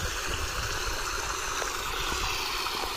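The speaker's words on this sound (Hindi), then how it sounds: "पानी झरची" Water flowing steadily in a stream near farm fields by a hillside, a continuous bright rushing wash, close and fairly loud, with no talk over it.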